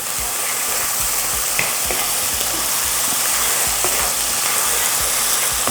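Plenty of garlic fries in hot oil with a loud, even sizzle that fills the whole stretch, dotted with faint stirring taps, close and without talk.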